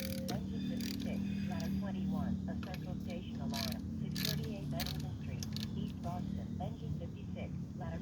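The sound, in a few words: tightening lug nuts on a Ford Fusion wheel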